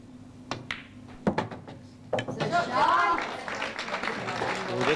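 A few sharp, scattered handclaps from pool players at the 1999 England v Ireland World Pool Team Championship final, applauding a positional shot in an indoor hall, followed by a rising wash of voices and crowd murmur.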